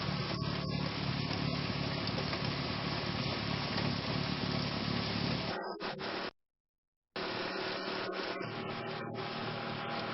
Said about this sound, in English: With the transmission in low and the engine at full throttle, chute aimed in the proper direction, slowly enter the snow drift.